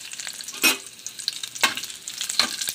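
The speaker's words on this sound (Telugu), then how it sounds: "నూనె అనేది మనకి వేడెక్కుతూ ఉన్నప్పుడు ఇందులో మనం ఎండుమిరపకాయలు మనం వేసి వేయించుకోవాలి" Dried red chillies frying in hot oil for a coconut and mango pickle, a soft continuous sizzle broken by a few louder crackling bursts as they are stirred, close by with no voices.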